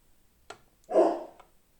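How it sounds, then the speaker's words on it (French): A pet dog, a female, lets out a single short bark nearby during quiet indoor crafting, with a faint yelp just before and a small trailing sound after. "Ma chienne aboie, désolée."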